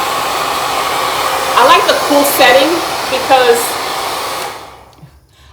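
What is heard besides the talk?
hair dryer blowing on cool setting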